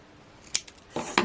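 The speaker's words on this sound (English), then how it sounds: "I'm just going to snip it" Scissors snip through paper while a card is being crafted, giving a few quick, close, crisp cuts in short succession in an otherwise quiet room.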